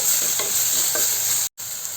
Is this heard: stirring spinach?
yes